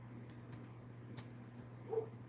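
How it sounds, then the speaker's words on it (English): A few quick taps on a computer keyboard, faint and close, in a quiet room with a low steady hum underneath. "I think I'm typing."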